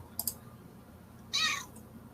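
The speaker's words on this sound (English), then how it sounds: "I hear your cat." A house cat meows nearby: two quick faint chirps, then one clear, fairly loud meow, with a small trailing sound after it.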